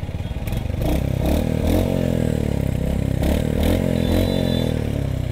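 Royal Enfield Hunter 350 single-cylinder engine running steadily while riding through traffic, a continuous close throb with slight rises in revs and some clattery background road noise throughout.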